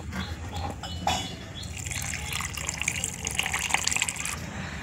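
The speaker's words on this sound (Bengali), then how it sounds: "এখন অল্প জল দিয়ে দেব।" Water is poured into patishapta batter made with milk, a close, steady trickling and gushing pour with a few splashy bursts, lasting several seconds with no talk.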